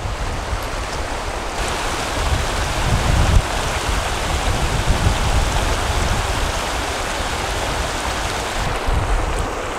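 Steady broadband rush of a fairly large mountain stream in Slovenia on the road to Kranjska Gora, a continuous close water roar with no voices.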